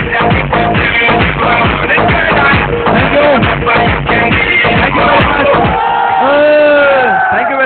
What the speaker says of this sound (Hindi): एक बहुत जोरदार तालियां आपके लिए।